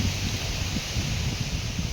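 Steady rushing wind blows continuously, a broad dense roar with low buffeting gusts against the microphone.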